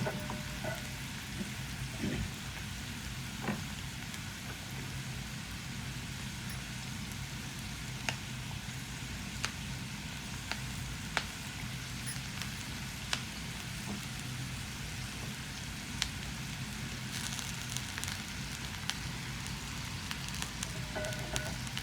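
Bottle gourd pieces and green chillies fry in hot oil, a steady crackling sizzle with occasional sharp pops, close and even throughout.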